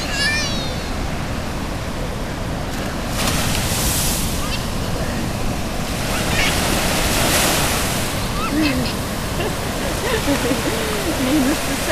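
Ocean surf rolls in at the Banzai Pipeline beach, a broad, continuous roar of breaking waves mixed with wind buffeting the microphone.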